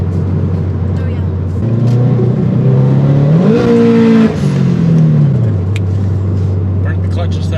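A turbocharged Scion FR-S running on E85 accelerates hard: a loud, close engine drone climbs in pitch, holds, then falls back to a steady hum, with voices in the cabin.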